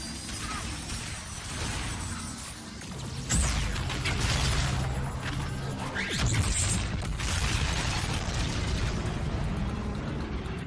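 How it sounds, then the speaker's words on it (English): A fireworks show ends the Zombies in Spaceland Easter egg in the video game, with rumbling booms, a swelling whoosh and crashing bursts over dense mechanical game noise, loud and continuous. "Then I aim true for that last light and then enjoy the fireworks show"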